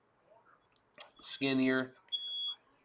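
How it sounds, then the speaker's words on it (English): Smoke alarm set off by bacon cooking in a home: a brief sharp electronic beep sounds faintly in the background, with someone speaking loudly over it. "Oh yeah, that's our fire alarm going off."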